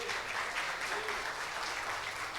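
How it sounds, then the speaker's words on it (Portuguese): Congregation at a Portuguese-language church service applauding, a steady dense wash of many hands clapping at moderate distance with no pauses, speech faintly mixed in. "Aplaude Jesus"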